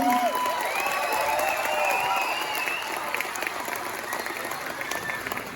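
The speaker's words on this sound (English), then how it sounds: "a big round of applause to welcome Dr. Monta Bimola Koijun" Sustained applause fills a hall as an audience welcomes a guest at a Manipur Patriots Day 2023 function in Bangalore, dense and steady throughout with a few brief voices or whistles rising above the clapping.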